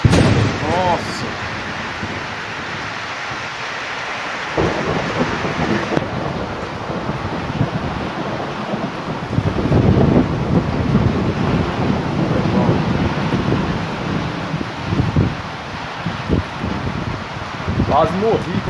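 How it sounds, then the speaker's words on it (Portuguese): Rolling thunder rumbles through steady heavy rain and gusty wind during a rainstorm in Presidente Prudente, with low booming swells rising and falling over continuous downpour and microphone wind buffeting. "Olha o trovão, o relâmpago aí, ó."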